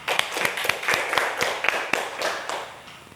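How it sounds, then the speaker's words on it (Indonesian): A classroom of students claps for a classmate, a small group's uneven rhythmic claps ringing close and fairly loud for a few seconds. "Tepuk tangan untuk Tilda"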